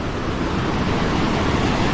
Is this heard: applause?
no